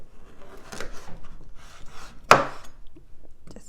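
A knife cuts the ends off a cucumber on a board for a spicy Cambodian salad, giving one sharp, close chop among soft rubbing and handling sounds, with no talk.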